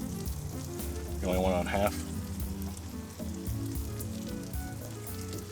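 A cheese and sausage omelette sizzles steadily in a pan, a continuous close frying hiss with a voice talking over it briefly.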